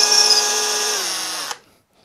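A heavy SDS drill whines loudly at full speed for about a second and a half, its pitch sagging slightly as it bites, then cuts off abruptly into silence.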